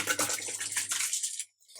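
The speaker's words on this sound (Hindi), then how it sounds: "अब इसमें हम अपने चावल डाल देते हैं।" Rice grains pour into a pot of hot water for a Hyderabadi mutton dum biryani, a close, steady rushing patter for about a second and a half before stopping abruptly.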